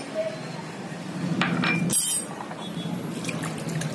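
Water is poured into a cooking pot over chicken in a home kitchen, giving a steady splashing, running stream with a brief louder gush near the middle, close by and without talking.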